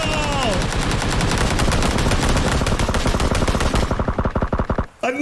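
Rapid, loud SKS rifle fire in PUBG, a dense string of shots close up that runs steadily before thinning into scattered final rounds and cutting off.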